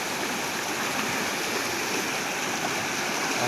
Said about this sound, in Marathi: ह्याच्यातनं पाणी बघ कसं वाहतंय